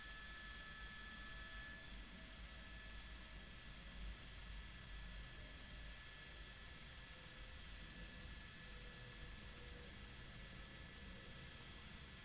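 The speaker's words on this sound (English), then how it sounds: "That CHP helicopter still following along." A CHP police helicopter flies overhead following a freeway pursuit, a steady, continuous rotor and engine drone that stays fairly faint and constant throughout, with no talk.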